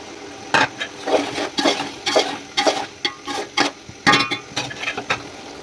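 A spoon stirs boiled chicken and boiled eggs into a hot frying pan for restaurant-style Chinese chicken and vegetable rice, making a steady series of close scraping and clinking strokes with a faint sizzle underneath.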